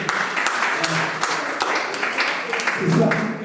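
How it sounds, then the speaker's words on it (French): An audience at an entrepreneurship session claps together in steady, even applause that fills the room, a bit muffled and moderately loud, with a voice briefly heard over it. "Voilà, on applaudit pour tout le monde, s'il vous plaît."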